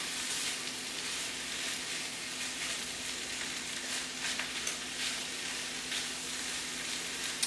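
Vegetables, vegan sausage and shrimp sizzle steadily in a pan, a dense, even crackle of frying close up with faint stirring and tossing scrapes, no voices.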